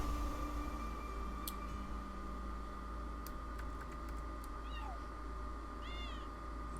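A cat meows twice in the Children of Morta video game, short rising-falling mews heard faintly over a steady low hum and background noise, with a few soft clicks earlier.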